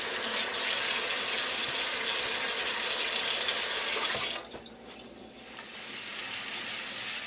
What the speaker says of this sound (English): Don't forget to rinse your hands after touching the meat.